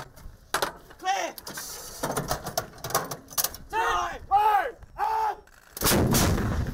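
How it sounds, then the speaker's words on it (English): Tank and artillery live fire during a military battle group exercise, with several loud heavy blasts and rumbling reports at irregular intervals, plus vehicle and mechanical noise in between. "So we need to do live firing in order to expose ourselves to the noise and the confusion of battle."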